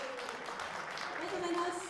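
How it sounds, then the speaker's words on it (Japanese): Sustained clapping from an audience at a Rotary Club Christmas meeting fills the room at an even level, with some voices mixed in. "マニアの皆さんに今一度大きな拍手をお願いいたします。"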